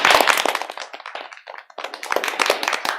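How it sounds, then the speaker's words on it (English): Applause from attendees at a town board of aldermen meeting, a dense burst of hand clapping that dips briefly midway then swells again, fairly close and with no speech over it. "Let's give her a round of applause"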